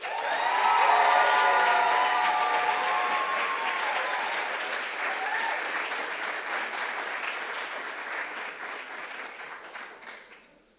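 Audience applause for a third prize winner at a business plan competition finals, a full room clapping steadily with a few faint cheers, fading gradually at the close.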